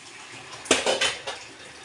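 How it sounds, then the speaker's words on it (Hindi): Dishes being washed at a home sink with running water, a short burst of splashing and clinking pots, near and moderately loud. "मम्मी बर्तन धो रही है"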